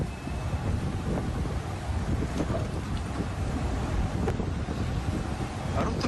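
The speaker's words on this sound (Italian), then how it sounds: "Fuori il vento strappa vaporetti e motonavi dagli ormeggi." Strong wind in Venice roars steadily into the microphone, strong enough to tear waterbuses and motor vessels from their moorings, a constant rushing buffet with faint creaks and knocks underneath.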